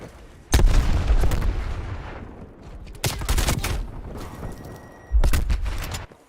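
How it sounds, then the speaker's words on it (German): Three heavy grenade explosions in the Call of Duty Cold War / Warzone video game, each a loud booming burst that rolls out into a rumbling decay, spaced roughly two and a half seconds apart. "Zack, da kommen jetzt Granaten."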